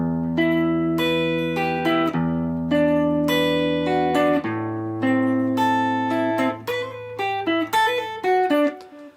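An electric guitar plays a melodic riff of plucked notes over sustained low notes, clean and close, with no voices.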